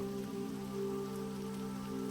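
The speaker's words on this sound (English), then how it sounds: "This is swiftly followed by the sound of heavy rain pouring down over the thick palace walls and upon the ground." Heavy rain pours steadily onto thick palace walls and the ground, a dense continuous wash of falling water with a sustained tonal hum beneath it and no talking.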